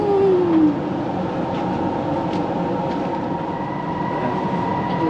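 Steady low rumble of a sleeper train rolling along rails, continuous and close, with a faint high whine running through it.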